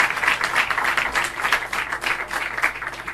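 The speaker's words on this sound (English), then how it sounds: "Round of applause, everybody, as he joins me up on stage." Audience applause and clapping at a magic show as a volunteer is called up on stage, a steady, dense wash of many hands that holds at an even, moderate level for the whole stretch, with no talk over it.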